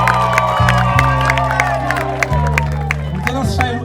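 Applause and cheering from a crowd at a wedding celebration, with clapping, whoops and shouts rising over steady background music and chatter throughout.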